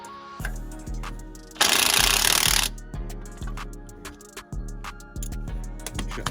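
An impact wrench fires one loud, sustained burst of about a second, tightening an 18mm nut on a car coilover. It stands out clearly over steady rhythmic background sounds.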